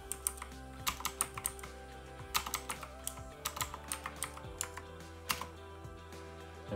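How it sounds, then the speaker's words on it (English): Computer keyboard typing commands while setting up a Raspberry Pi, with close, irregular bursts of key clicks and short pauses, no voices. "we're going to type the command git clone"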